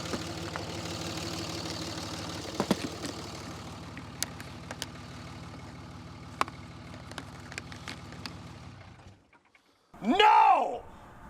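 A Cummins diesel engine idles steadily for about nine seconds with low rumbling harmonics and scattered clicks, then cuts out to near silence before a voice speaks briefly.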